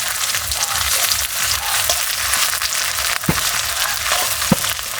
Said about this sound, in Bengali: পেঁয়াজটা সুন্দর লাল লাল করে ভাজা হয়ে গেছে।